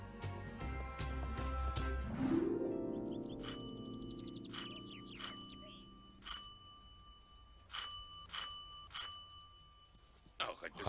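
A bicycle bell rings repeatedly in an animated children's series about Little Nicholas. Crisp, bright dings come in a scattered series, following a busy stretch of sound at the start.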